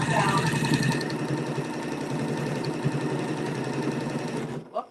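Close sewing machine steadily stitching down a small appliqué on a holiday table topper, a fast even whir that runs continuously for several seconds before stopping.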